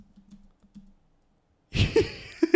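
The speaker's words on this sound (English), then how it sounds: "You're actually typing." Typing on a computer keyboard, a quick burst of clicky keystrokes close up after a near-silent stretch with a few faint taps, no talk over it.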